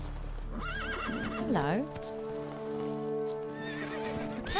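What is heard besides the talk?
upset horses neighing and hooves in video game The Witcher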